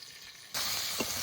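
Potatoes fry in a pan with green chillies and salt as turmeric goes in, a steady sizzle that jumps suddenly louder midway and holds at a dense, close hiss.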